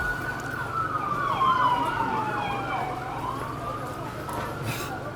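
A distant emergency vehicle siren wails through a street in Inala, rising and falling over steady traffic and ambient noise, moderately loud and fading toward the end.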